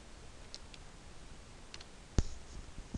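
A computer mouse double click, a quick pair of sharp clicks heard close and alone against a quiet room background, with a faint click just after.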